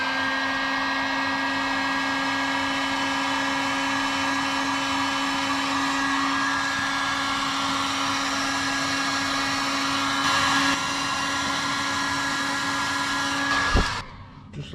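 A heat gun blows steadily while shrinking heat shrink tubing over a crimped cable for a campervan solar and DC-DC charger install, a loud, even whooshing drone that runs unbroken, then clicks off at the end.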